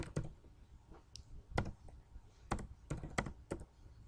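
Fingers tap quick bursts of clicks on a computer keyboard while entering a form description, with short pauses between clusters of keystrokes, close and moderately loud against a quiet room.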